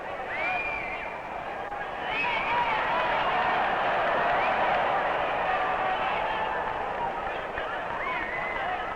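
A crowd at a 1957 professional wrestling match between Édouard Carpentier and Lou Thesz cheers and applauds as a broad, steady roar that swells in the middle, with a commentator's voice over it.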